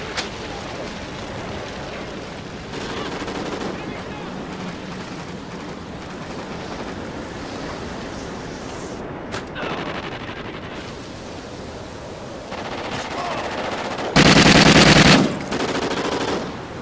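Video game gunfire with sustained machine gun bursts, a long rattling barrage of shots that swells into a loud, dense burst near the end, with no speech.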